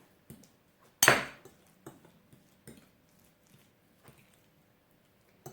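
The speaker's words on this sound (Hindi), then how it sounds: "और इसको अच्छी तरह मिक्स कर लूँगी।" Egg sandwich filling with light mayonnaise being mixed in a bowl: a sharp utensil clack, then sparse, soft scraping taps against the bowl at irregular intervals, close by, with no talking.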